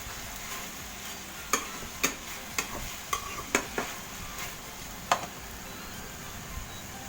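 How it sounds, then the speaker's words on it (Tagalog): Chicken afritada sizzles in a pan while a utensil stirs it, giving a soft continuous frying hiss punctuated by several sharp clicks of the spoon against the pan, fairly quiet and without talk. "So, halo-haloin lang po natin."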